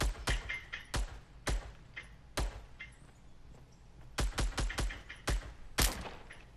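SCAR rifle fire in a video game cracks out in sharp single shots and quick clustered bursts at irregular intervals, fairly loud and close, with no talking.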